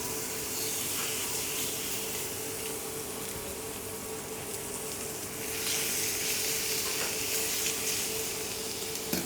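Skin-side-down poultry sizzling steadily in a frying pan over medium heat, a dense continuous crackling hiss close up that swells slightly partway through, with no talking.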